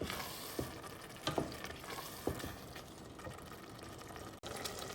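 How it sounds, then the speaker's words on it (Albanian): Tomatoes with garlic cook down in a pan, a steady close sizzle broken by occasional soft knocks as a wooden spoon presses them. "do presim derisa domatet na shkryjnë mirë, ndërkohë i shtypim nga pak me të lugën e drurit"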